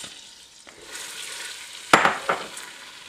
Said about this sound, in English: Then I'm going to add a cup of chopped or diced yellow sweet onions.